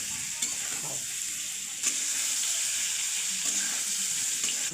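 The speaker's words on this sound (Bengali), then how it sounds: "এই আলুটা একটু ভেজে নিই" Boiled potatoes frying with salt and turmeric in a pan, a steady close sizzle throughout with a few soft knocks of stirring, no voices.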